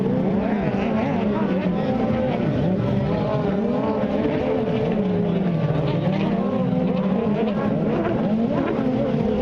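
Watercross snowmobiles race across the water at Sebring, their high-revving engines roaring steadily and loudly throughout, with pitch rising and falling as the sleds accelerate and pass, under an announcer's race commentary.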